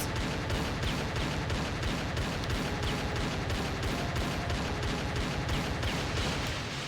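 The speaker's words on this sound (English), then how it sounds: "So just keep on shooting" Rapid, evenly spaced gunshots fire continuously in a Tomb Raider Level Editor game, a dense, loud, unbroken volley of repeated shots with no talking.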